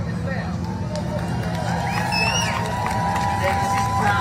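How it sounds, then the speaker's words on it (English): A May Day protest crowd against Trump in the US cheers and whoops at an outdoor rally, a continuous mass of voices with shouts rising over the general din. "that's why y'all need to clap it up for yourselves."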